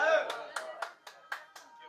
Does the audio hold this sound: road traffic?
no